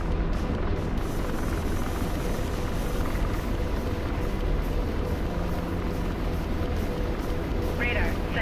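Apache attack helicopter in a video game, a steady low rotor and engine drone throughout, with occasional faint cockpit tones and a person speaking over it.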